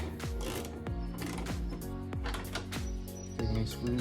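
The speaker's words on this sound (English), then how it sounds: "taking these screws out on the inside" Screws being backed out from inside a Ford F150 tailgate, heard as repeated sharp ratcheting clicks and metallic turns at close range, in quick succession with no voices.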